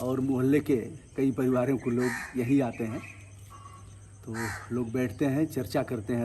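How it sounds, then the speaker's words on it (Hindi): Crows caw from an outdoor village courtyard with a cement stone slab for sitting, brief calls scattered behind continuous Hindi conversation from a nearby speaker. "कौवा बोल रहे हैं, बोलिए भाई।"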